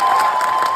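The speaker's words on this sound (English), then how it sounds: "Look at that big applause there." Short burst of crowd applause and cheering at a political event, loud and dense and cut off after under a second.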